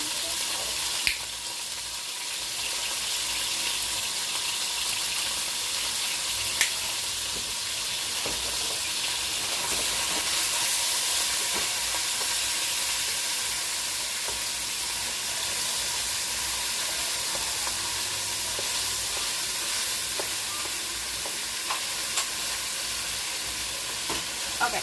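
Ground beef browns in a single pan, giving a steady broadband sizzle with occasional scraping stirs across a long stretch, close and moderately loud, with no talking.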